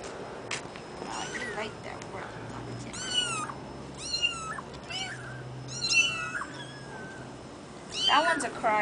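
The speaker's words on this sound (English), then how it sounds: "That one's a cry one. No, I don't like crying cats." Several young kittens meow repeatedly in short, high, rising cries scattered through the clip, fairly close, with people talking quietly in the background.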